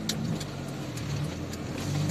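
Steady road noise from a GAZelle van as it rolls onto an asphalt road, with a continuous low engine drone and tyre hum throughout, close and even, with no talking.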